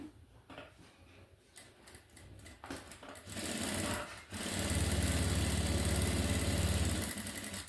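A sewing machine stitches the neck of a thin blouse piece backed with lining, starting with a few short bursts and clicks, then running in a long, steady, close whir.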